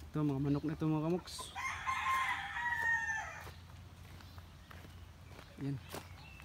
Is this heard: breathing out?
no